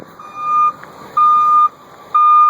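A 1989 Chevy Thomas bus put in reverse gives three loud, evenly spaced reversing beeps, close up over faint background noise.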